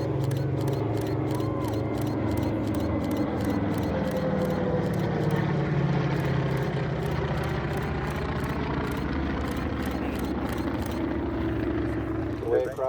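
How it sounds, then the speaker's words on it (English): A large Avenger propeller aircraft drones steadily overhead at an airshow, with a continuous loud engine hum lasting the whole stretch, while camera shutters click in rapid bursts nearby. "That Avenger is certainly a huge aircraft."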